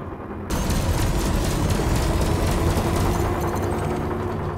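Space combat gunfire in Elite Dangerous bursts in abruptly after a brief quiet start, then rattles on as dense, loud, continuous volleys with booming undertones for several seconds.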